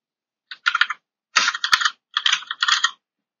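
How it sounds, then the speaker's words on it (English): Keys clatter on a computer keyboard as a search term is entered, three quick bursts of close, crisp typing separated by short pauses, with no talking. "I will type in the app services"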